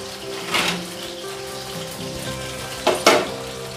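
Mushrooms frying in hot oil for restaurant-style chilli mushroom, a continuous close sizzle with two sharper bursts of crackling spatter, no talking.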